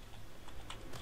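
Computer keyboard or mouse buttons clicked in quick, quiet succession, soft and close, over a low background hum.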